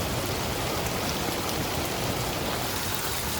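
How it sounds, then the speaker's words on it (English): Heavy rain pours down in a steady, dense roar, loud and close throughout with no pauses and no voices. "Every once in a while we get these rains that they call a bomb rain, where it just dumps on you."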